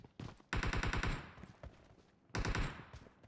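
Rapid automatic gunfire in a video game, in two long bursts with a few single shots between, crisp and close, with no talking.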